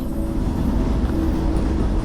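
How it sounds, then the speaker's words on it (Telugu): A loud, steady low rumble of an Indian Railways train passing a closed level-crossing gate, continuous and close, with no voices. "ట్రైన్ వెళ్తుంది"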